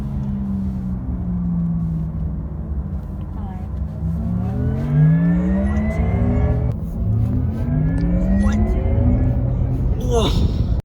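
A Porsche Taycan Turbo electric car accelerating from inside the cabin, with a rising whine of motor tones that climbs steadily over a steady low rumble, under a voice talking.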